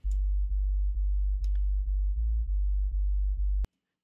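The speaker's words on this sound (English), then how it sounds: "I have this bass coming through Serum" A deep synthesized sub bass from the Serum synth plays as a run of sustained low notes with brief clicks at each change. It sits alone and loud, then cuts off abruptly near the end.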